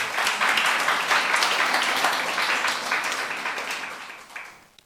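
A church youth-group congregation applauds during a sermon, a dense wash of clapping that starts full and gradually fades toward the end, with no talking over it.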